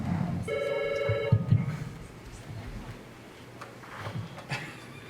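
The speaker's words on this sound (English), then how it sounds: "The phone rings." A telephone rings during a town board meeting, a short electronic ringing burst under background room noise and faint talk nearby.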